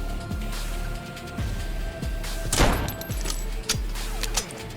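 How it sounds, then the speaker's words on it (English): A burst of gunfire in the video game Depersonalization, a loud shot cracking out near the middle over a steady low game drone and scattered thumps, with no talk. "Let's try and shoot him."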